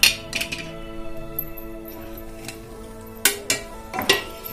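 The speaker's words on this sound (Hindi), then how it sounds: "और इसको अच्छे से चला के मिक्स करेंगे" Potatoes with spices and yogurt are stirred in a pan, a few sharp utensil clinks and scrapes against metal over a quiet background, close and moderately loud, without speech.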